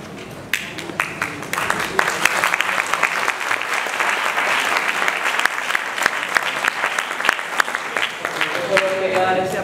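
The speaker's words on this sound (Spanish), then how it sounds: "Yo solo quería dar ese aplauso que están dando todos" An audience at a youth training conference on a sustainable camp breaks into sustained applause, a thick continuous patter of many hands with crisp nearby claps, fairly loud, with some voices underneath.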